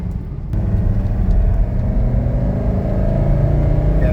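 A 1985 Mercedes 300TD wagon is driven through a roundabout, with a steady loud engine rumble and road noise heard from inside the car, continuous throughout.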